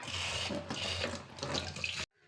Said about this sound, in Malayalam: ഇനി നമുക്ക് അരി കഴുകിയിടാം